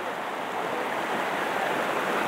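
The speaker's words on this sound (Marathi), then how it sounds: "जो छोटासा एक धबधबा आहे म्हणजे एक ओढा टाईपच आहे" Continuous broadband rush of a small waterfall and stream flowing down from a hill, close and steady with no other sounds.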